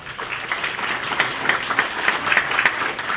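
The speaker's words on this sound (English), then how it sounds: "Would you give him a round of applause, please?" Applause from an audience at a community business gathering, a steady wash of many hands clapping at moderate volume from nearby, continuing alone without speech.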